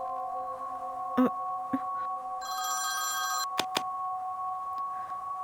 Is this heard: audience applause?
no